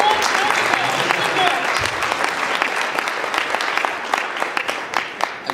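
Guests at a Muslim student association annual dinner break into a warm round of applause for a speaker, dense clapping that thins out toward the end, with some voices mixed in.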